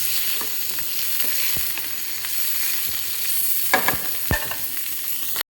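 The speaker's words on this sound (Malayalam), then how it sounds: "അതിലേക്കായി അരിഞ്ഞു വെച്ച മഷ്റൂം ഇടാം കേട്ടോ" Chopped mushrooms sautéing in a pan with wilted onion and garlic give a steady, loud hiss throughout, with a few clear stirring clacks near the end.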